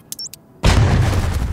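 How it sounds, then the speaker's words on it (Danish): A small bomb goes off in a video game as one loud, sudden boom that rolls on as a thick, sustained rumble after a few faint clicks. "Så tager vi små bomber her, ikke? Det bliver jeg så glad for. En lille bombe, ikke? Bum."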